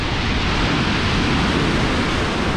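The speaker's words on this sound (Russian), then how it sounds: "Смотрите, как бушует море в Коктебеле сегодня." A stormy sea pounds the shore at Koktebel in December, a loud, continuous roar of surf mixed with wind buffeting the microphone, with no voices.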